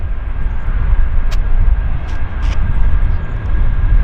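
An airliner takes off at Vancouver International Airport, a steady broadband engine roar that holds close and loud throughout with no voices.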